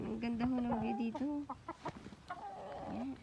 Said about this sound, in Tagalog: Aray pa, manok na rin.